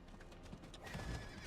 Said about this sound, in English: The webbed up horse.